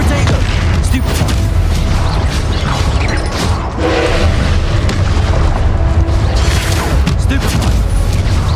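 Spell blasts from the video game Hogwarts Legacy: dense, continuous booming impacts and crashing bursts pile up throughout, loud and close, with a few brief sharper cracks punching through the constant rumble.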